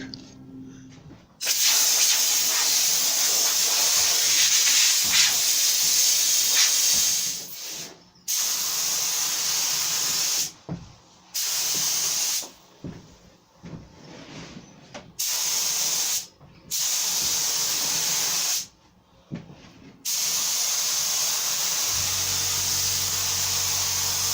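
Paint spray gun spraying kitchen doors during kitchen fitting, a loud steady close hiss in long passes broken by several short pauses between strokes, ending in a quieter low hum.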